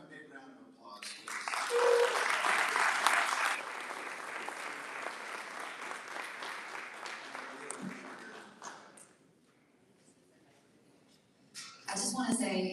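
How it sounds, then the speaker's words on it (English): Audience applause at a Rotary club meeting, a dense burst of clapping that swells quickly, then thins and fades over several seconds before voices resume at the end. "Let's give them a big round of applause"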